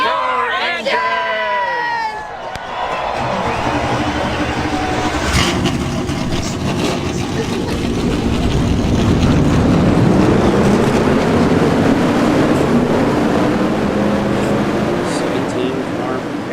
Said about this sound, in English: Here's the command to fire the engines at Daytona.